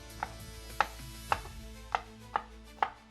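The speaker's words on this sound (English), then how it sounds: "Rough chop" A knife rough-chops food on a cutting board during meal prep, six sharp, evenly spaced chops about half a second apart, close and clear with no talking.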